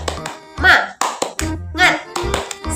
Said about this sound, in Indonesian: kita tepuk semangat dulu ya supaya kita tambah semangat dalam mengikuti proses pembelajaran pada hari ini.